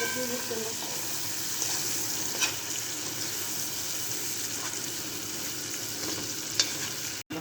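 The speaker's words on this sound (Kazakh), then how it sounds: "Пиязымызды да сәл қызарғанша қуырамыз" Onions frying until slightly browned for Kazakh hand-pulled lagman, a continuous close sizzle with occasional stirring clicks and a faint watery hiss in the background.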